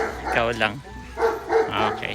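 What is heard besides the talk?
neighbor's dog barking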